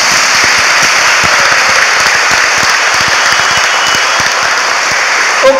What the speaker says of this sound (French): Applaudissez nos mères.